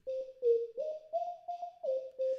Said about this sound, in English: Portamento is you're just sliding between notes